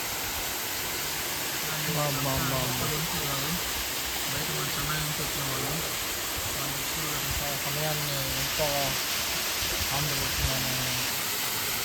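A hidden waterfall at Kailasakona pours with a steady, broad rushing roar that never lets up, while people talk over it throughout.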